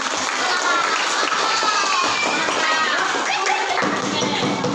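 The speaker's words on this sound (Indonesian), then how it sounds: "Tepuk tangan untuk kita semua." A class of fifth-grade children claps together in a classroom at the end of a lesson, a steady, dense patter of small hands close by, with children's chatter and shouts mixed in throughout.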